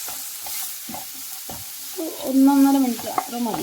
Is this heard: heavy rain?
no